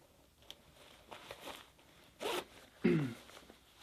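Zipper on the ankle gaiter of a running shoe being zipped shut, a couple of short, close rasping pulls with faint handling noise between them.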